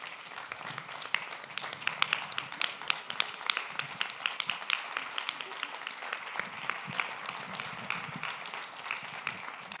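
An audience applauds steadily throughout, a dense and even patter of many hands at moderate volume inside a church hall, with some faint murmuring underneath.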